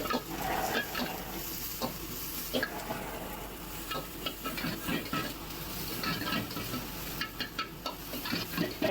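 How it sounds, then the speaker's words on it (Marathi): Cabbage, beans and green chilli are stir-fried for a vegetable soup, a steady close sizzle with frequent scraping and tossing strokes in the pan, no speech over it. "पत्ताकोबी, बीन्स फ्राय करून घेऊया. त्यामध्ये नॉर्मल ग्रीन चिल्ली ॲड केली."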